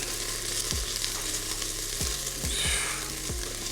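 Garlic cooking inside an Instant Pot Duo Crisp, a steady close sizzle and crackle of frying with a few soft knocks of stirring, no talking.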